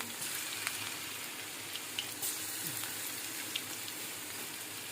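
Garlic fries in a generous amount of mustard oil, a soft, steady crackling sizzle with scattered small pops, fairly quiet and with no talking.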